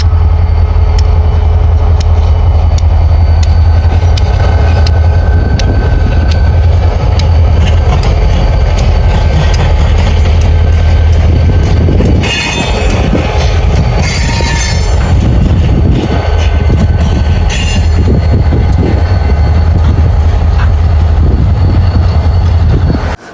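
A pair of CSX SD40 diesel locomotives rumble loudly past at close range, a steady heavy roar with bursts of high metallic wheel squeal partway through.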